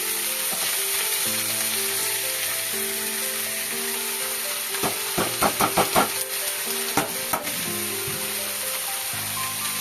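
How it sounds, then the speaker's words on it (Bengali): Note shak greens frying in a pan with garlic and green chili, a steady close sizzle with a burst of stirring scrapes and clatter in the middle; no talking. "এটা ফোড়ন দেব, দিয়ে নোটে শাকটা ভাজবো।"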